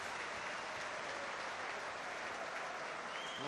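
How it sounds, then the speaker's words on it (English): A stadium crowd at a 2019 St Helens v Wakefield rugby league match applauds a player leaving the field, a steady, dense wash of distant clapping with no break for the whole stretch. "Well, the applause you hear is from Zeb Tyre coming off the field."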